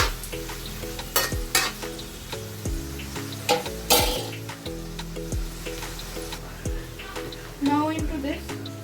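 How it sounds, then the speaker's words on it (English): Chicken tahari masala with green chilies frying in a pan, a steady sizzle broken by repeated clanks and scrapes of a spoon against the metal, close and fairly loud, with a voice speaking over the cooking. "Let it fry for a while."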